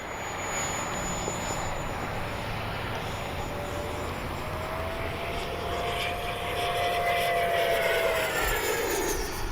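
An E-flite 70mm Viper RC jet flies past with a distant, steady turbine whine that rises and falls in pitch as it passes, under a constant layer of outdoor wind noise and no speech.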